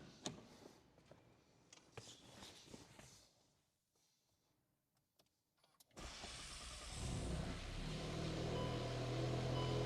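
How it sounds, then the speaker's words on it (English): Volkswagen MQB-platform car after a coil pack grounding kit, new spark plugs and new coil packs: interior clicks and handling noises, a quiet pause, then the starter cranks and the engine catches and settles into a loud, steady idle. "Now you start your car and see if it still starts."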